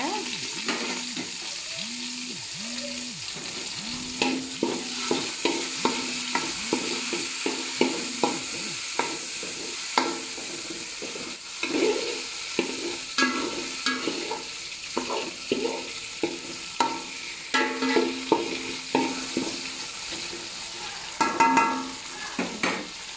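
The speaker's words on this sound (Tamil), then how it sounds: "தக்காளி பழத்தை போடுங்க" Tomatoes frying in a pan for a dried fish (karuvadu) curry, with steady close sizzling broken by repeated scraping and stirring strokes of a spoon against the pan.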